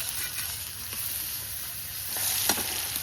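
Chopped onions with a pinch of salt and turmeric sizzle steadily in hot mustard oil, a close, continuous crackle with a few brief stirring scrapes and a slight swell near the end.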